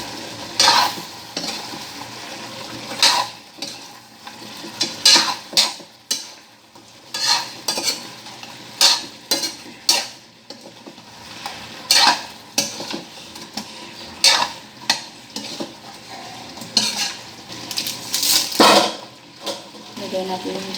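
A utensil scrapes and clatters repeatedly against a pan while pork caldereta with liver spread is stirred, sharp irregular strokes over a soft sizzle, with brief quiet gaps between bursts.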